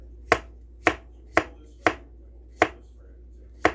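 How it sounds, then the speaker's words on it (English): A knife thinly slicing pickling cucumbers on a cutting board, six crisp, evenly spaced chops close up with quiet pauses between them. "I'm going to start thinly slicing my cucumbers."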